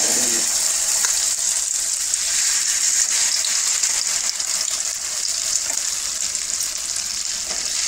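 Dosa batter hits hot ghee on a griddle with a loud, steady sizzle, a continuous bright hiss like frying that holds close and even throughout without pause.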